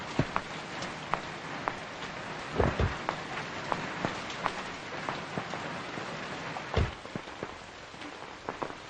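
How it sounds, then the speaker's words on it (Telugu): Steady rain pours down continuously with scattered heavier drops and a couple of low rumbling thumps, no voices. "ఇంత వర్షం"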